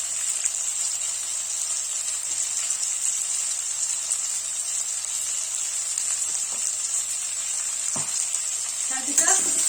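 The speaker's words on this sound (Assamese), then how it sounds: "তাৰপিছত ধুনীয়াকৈ ভাজি ল'ম" Salt, turmeric and cumin powder fry in oil for a rohu fish curry with ridge gourd and potato, giving a loud, continuous, even sizzle, with a few scraping stirs near the end.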